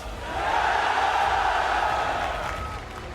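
A large crowd at an esports event in Riyadh for a Rainbow Six Siege match roars and cheers in a sustained, loud swell that builds and then slowly fades.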